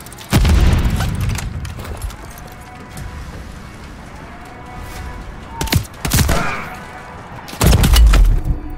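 A grenade explosion in the video game Modern Warfare 3, one of several sharp, loud booms and bursts of gunfire that break out over a quieter stretch between the blasts.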